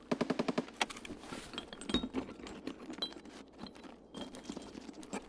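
Rapid bursts of AK-74 rifle fire in a video game, with fast repeated shots early on followed by scattered clicks, clinks and further shots at moderate distance.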